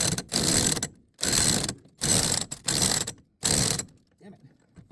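A $21 Walmart torque wrench ratchets on the wheel hub of a 2006 Nissan Sentra during hub and wheel bearing work, giving five loud, close bursts of rapid clicking separated by short pauses before quieting.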